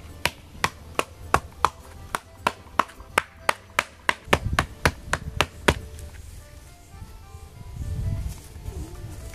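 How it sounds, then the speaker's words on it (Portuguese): Hard stone strikes pounding a coconut husk to soften it on a rural smallholding, about twenty sharp rhythmic knocks in steady succession, close and loud, then thuds and rustling handling. "Bater aqui, tá? Deixar bem molinho essa casca aqui do coco"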